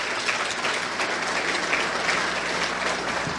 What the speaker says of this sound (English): Let's give Premier Emery a round of applause